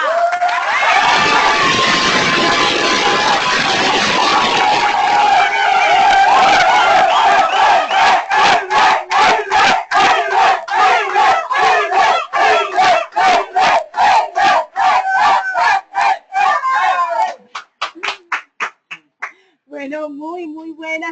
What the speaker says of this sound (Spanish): quiero que esta sala me acompañe a recibir con el más fuerte aplauso virtual